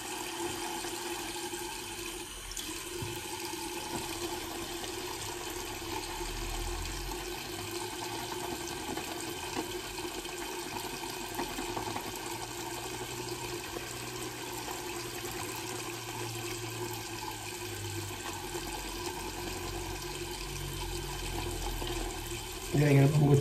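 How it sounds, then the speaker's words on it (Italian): Hot water runs from a bathroom tap while a shave is being prepared, a long, steady stream with a low background hum, rising briefly louder at the very end. "facciamo scorrere un po' d'acqua calda"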